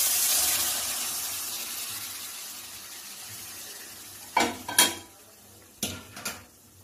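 Hot water hits frying spice masala for egg bhapa, raising a bright hiss of sizzling that fades over a few seconds. A few sharp utensil clinks against the pan follow.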